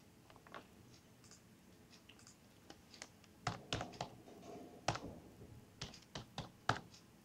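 Keys tapped on a computer keyboard to enter a username and password, sparse quiet clicks at first, then clearer bursts of close keystrokes in an uneven typing rhythm, with no talking.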